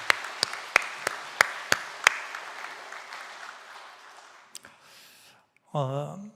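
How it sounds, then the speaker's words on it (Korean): Church congregation at a Sunday morning service applauding, a row of distinct sharp claps that blend into a faint spattering ripple and fade, followed by a short burst of speech. "우리 따뜻한 박수를 한번 보냈으면 좋겠습니다"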